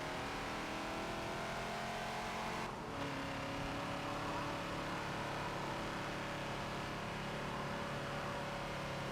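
A Ford Falcon XB in a Forza racing game at Watkins Glen revs steadily as a loud engine drone, the pitch holding through a brief dip at a gearchange before it climbs again.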